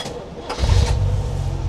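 A 1984 Porsche 928 engine cranks and catches, a deep low rumble swelling up and settling into a steady idle close by, with no talking over it.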